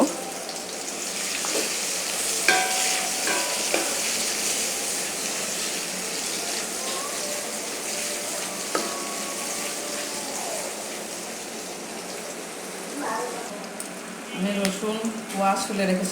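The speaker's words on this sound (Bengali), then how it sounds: "আমি যে তিনটা পেঁয়াজ কুচি করে রেখেছি সেটা এর ভিতরে অ্যাড করে দিচ্ছি আমি কিছুটা ভেজে নেব নরম করে নেব" Chopped onions fry in a pan for a raw jackfruit curry, giving a steady broadband sizzle throughout with a few brief clinks and scrapes, and a louder burst of stirring near the end.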